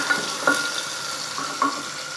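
Thin onion slices cooking in oil for a mutton biryani, a soft steady hiss with a few brief clinks and stirring touches, fairly quiet and without talk.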